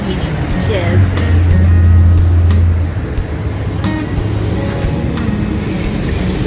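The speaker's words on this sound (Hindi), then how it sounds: "तो चलिए गाड़ी पार्क करते हैं" A car drives slowly into a parking area at an outlet shopping centre, its steady low engine drone swelling briefly before settling, with faint muffled voices in the cabin.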